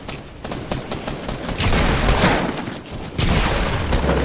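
Dense bursts of rapid gunfire in Fortnite, several overlapping volleys crackling loudly and continuously, with heavier bursts near the middle and end.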